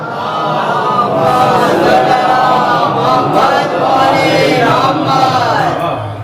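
A congregation at a religious sermon loudly chants the salawat in unison, a dense wall of voices that swells and holds for several seconds.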